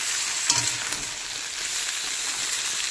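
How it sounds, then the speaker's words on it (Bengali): Purple cauliflower fries in plain oil with no salt or turmeric, giving a steady, full sizzle with light crackling and occasional stirring clicks that continue evenly from start to finish. "এই জন্য কিন্তু এটাতে ভাজার সময় নুন বা হলুদ আমরা দিই না, এমনি খালি ভেজে নিই।"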